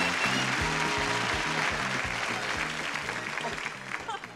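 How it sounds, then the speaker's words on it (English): Game show studio audience applauds loudly and steadily over bright, rhythmic theme music, the clapping easing slightly toward the end. "You know they were applauding"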